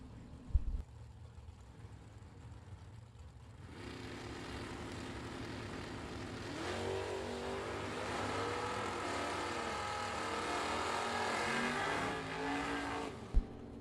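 Drag race cars at a bracket nationals event, including a 1969 Dodge Coronet RT, roar down the strip, with engine noise surging in and building into a loud sustained drone before cutting off.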